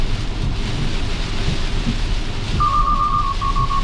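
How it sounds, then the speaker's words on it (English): Heavy rain pelting a Tesla Model X driving on the highway on autopilot, a steady loud wash of drumming with road rumble beneath, and a brief electronic chime tone near the end. "Again, with the heavier rain coming down, it asked me to take over again"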